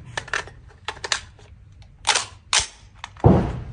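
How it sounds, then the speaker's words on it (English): A Sig 550 folding-stock rifle firing 5.56 rounds outdoors: a handful of sharp, sudden cracks at irregular intervals, ending in one heavier, booming report. "We're going to go ahead and shoot a couple of rounds of this."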